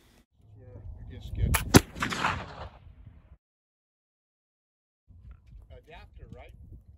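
A Kibler .45 muzzleloading rifle loaded with black powder made from Eastern Red Cedar charcoal fires one sharp, loud shot. A rumbling tail follows the report and fades into silence, and then people talk quietly.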